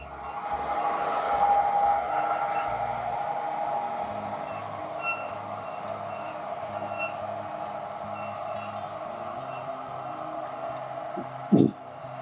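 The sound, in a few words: tractor with planter rig taking off in field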